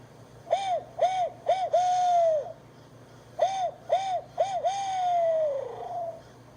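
A barred owl's 'who-cooks-for-you' hoot is imitated on a hunting call, in two close phrases of short rising-falling hoots, each ending in a drawn-out, descending note, clear over a quiet background.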